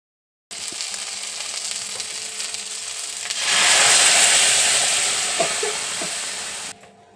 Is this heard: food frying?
yes